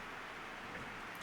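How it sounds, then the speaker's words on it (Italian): Steady rain hiss in the PES 99 football video game during a match set in Ukraine, an even, dense wash of sound with no voices over it. "Piove qui in Ucraina."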